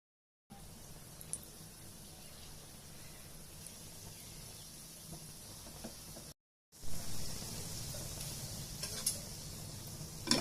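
Gulab jamun fry in a pan of oil, giving a soft, steady sizzle that runs on quietly, cuts out briefly, then comes back a little louder.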